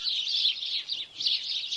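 Sparrows chirping in a steady, busy stream of high twittering calls, close and clear with no voices.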